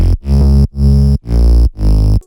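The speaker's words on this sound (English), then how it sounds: "I've actually layered in this BAE bass crushed guitar on Nexus, and I turned off the reverb." Layered bass crushed guitar synth from the Nexus plugin in FL Studio with reverb turned off, playing four loud, sustained, heavily distorted chords in a steady rhythm, each cut off sharply before the next.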